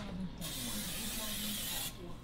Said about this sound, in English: Now go ahead and spray this pan with some of this butter pan.